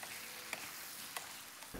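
Sweet and sour vegetables with cut spring onions being stir-fried in a pan, a faint steady sizzle with a few soft scrapes of stirring, no talk.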